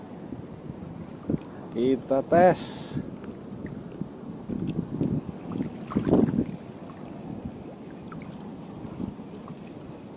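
Strong wind buffets the microphone on a small boat during lure casting on open water, a steady low rumbling roar with gusts, while people speak briefly over it.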